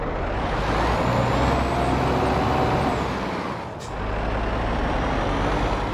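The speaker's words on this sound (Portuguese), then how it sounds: "Vamos testar a física desse caminhão aqui." A heavy truck drives steadily in Euro Truck Simulator 2 on a Brazilian map, its engine a loud continuous rumble with a brief dip and air-brake hiss near the middle, no talking.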